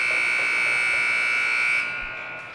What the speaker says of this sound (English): We'll get the buzzer in just a second to signal the end of the second period